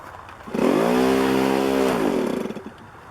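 A race car engine fires up during a shakedown test, a rough mid-pitched buzzing rev that holds steady for about a second and a half then drops away, close and fairly loud.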